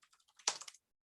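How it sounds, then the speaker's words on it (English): A short burst of typing on a computer keyboard: a few light key clicks followed by a quick, slightly louder cluster of taps, close and quiet, lasting under a second. "as I'm typing"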